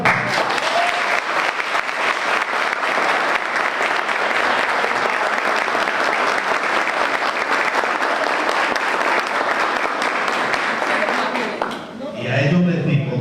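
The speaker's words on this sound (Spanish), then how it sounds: "le dé un aplauso a aquellos jóvenes que hoy están iniciando su curso final de grado" A large crowd at a law school graduation ceremony applauds the young students beginning their final degree course, with dense, steady clapping sustained for about twelve seconds before it thins and a voice begins to speak.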